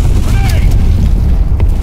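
In the Black Squad shooter game, a grenade explosion produces a deep, sustained boom with heavy low rumble that fills the whole moment, with voices talking over it.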